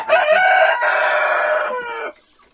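A rooster crows once in a long, loud, drawn-out call that falls away at the end, kept among chickens, with no talking.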